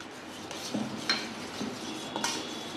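Raw milk being mixed into beaten eggs in a bowl for bread egg pancakes, with soft irregular clinks and scrapes of a utensil against the bowl at close range; no talking.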